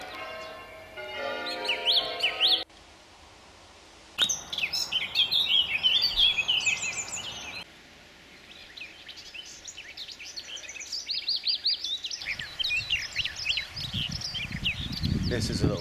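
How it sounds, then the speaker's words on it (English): A small flycatcher sings in a dawn chorus: bright, repeated chirping phrases with other birds calling around it, broken by quieter gaps, and a rumbling noise near the end. "This is a little flycatcher"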